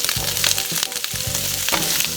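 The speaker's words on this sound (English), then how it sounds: "Saute the onion and the zucchini" Onion and zucchini sautéing in a tablespoon of oil over medium heat, a loud close sizzle broken by the scrape and clatter of stirring at regular intervals, with no talking.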